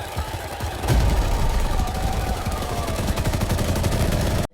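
Rebels' gunfire rings out as a dense, continuous volley of rapid shots, loud and sustained, with one sharp crack standing out early, then stopping abruptly.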